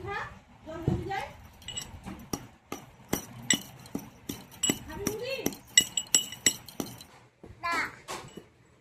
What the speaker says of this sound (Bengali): এলাচ গুঁড়ো করছি